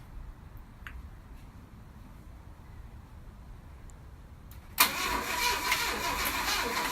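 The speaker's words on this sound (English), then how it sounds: "The engine is running. It sounds horrible, and the sound at the very end is when the engine died." A 1965 Thunderbird engine turns over and runs roughly: about five seconds of faint low rumble, then a sudden loud, broadband roar that holds steady to the end, heard close with no talking.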